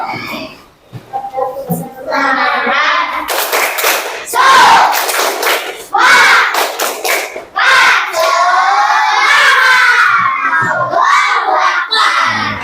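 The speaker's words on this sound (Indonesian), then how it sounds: "Ayo, kita tepuk semangat lagi." A class of children clap in a quick rhythmic pattern and shout a cheer together in a classroom, loud and close, with bursts of voices between the claps.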